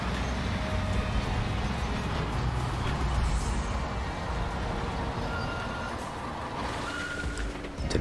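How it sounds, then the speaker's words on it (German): A MAN truck driven away on a construction site in a building simulator game, its diesel engine droning steadily at moderate level with faint beeps and air-brake hiss over a low rumble. "ich fahre jetzt mal den MAN weg"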